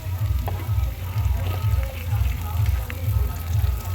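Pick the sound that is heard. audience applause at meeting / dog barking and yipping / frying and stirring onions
frying and stirring onions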